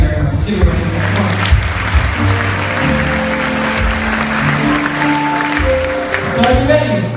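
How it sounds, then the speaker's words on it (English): Steady audience applause at a faith talk fills the room at a constant level, with a sustained tonal hum and a voice rising over the clapping throughout. "Let's give it a round of applause"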